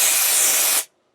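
A spray bottle mists onto sectioned hair in a single close, loud hissing burst that stops abruptly after about a second.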